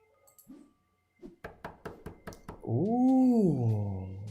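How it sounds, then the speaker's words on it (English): Knocking on a front door in a lo-fi detective game, a run of about six sharp, evenly spaced knocks, followed by a loud, drawn-out meow from a cat. "There immediately came a banging in the front door."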